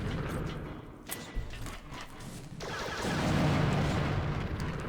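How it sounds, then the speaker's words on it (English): Bomb explosions in the Custom Robo video game, a dull, muffled burst with a rumbling wash that swells over several seconds, moderately loud with no talk. "It shoots two bombs, but they're really shitty explosions."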